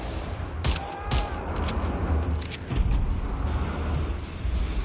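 Pistol fire in the first-person shooter Wolfenstein: The New Order, a few sharp reports ringing out amid dense, continuous combat noise and mechanical clatter.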